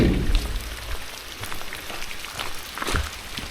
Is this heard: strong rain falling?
yes